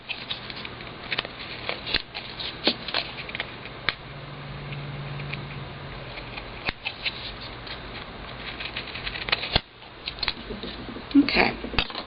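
Paper being trimmed for a scrapbook project, with soft creaking, snipping mechanical clicks and scattered taps close by over a low steady hum, light sporadic handling sounds throughout.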